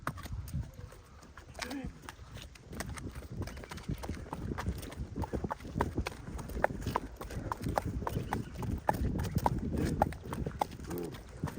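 Hooves of a young Percheron-Hanoverian mare clip-clop in an uneven, steady rhythm on the ground nearby, with a voice talking over the sound throughout.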